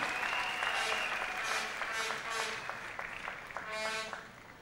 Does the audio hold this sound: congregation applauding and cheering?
yes